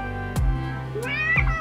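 A black cat at a rescue cat cafe meows twice, close and clear, with a drawn-out, rising cry in the second half and a low steady purr-like hum underneath.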